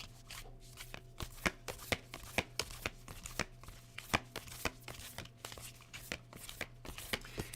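A deck of cards shuffled for a card reading, making a steady run of crisp, close riffling clicks and snaps with no talking.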